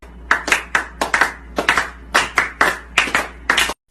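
Hand claps ring out one after another, about a dozen sharp, separate slaps in an uneven rhythm, close and fairly loud, with short quiet gaps in between and no talking.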